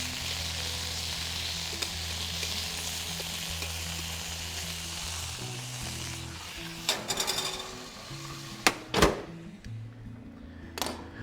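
Roast rabbit sizzles steadily in hot fat, a loud continuous frying hiss with low crackle, broken near the end by a few sharp clacks and scrapes of handling.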